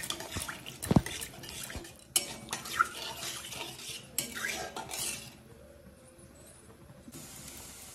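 Water poured into egg curry masala in a pan, with utensil clinks and scraping stirs against the pan, a sharp clatter near the start, fading to a quiet simmer toward the end.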